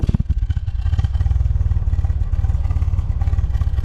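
A 1978 MG Midget sports car engine idles loudly and roughly up close, running very low, its low chugging pulse steady and slightly uneven, with no voices.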